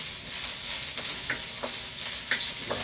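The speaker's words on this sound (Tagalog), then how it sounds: "Kaya luya na lang. Gisahin." Ginger sautéing in a pan gives a soft, steady sizzle with a few light scrapes of a utensil, fairly quiet and without any voices.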